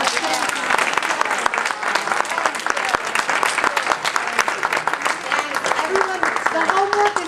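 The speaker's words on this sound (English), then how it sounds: "let's all give her a round of applause." Sustained applause from a room full of people, brisk and even throughout, with a few voices faintly audible beneath the clapping.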